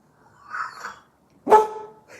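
A single dog barks once, loud and close, after a stretch of softer murmuring noise, with a brief faint sound trailing at the end.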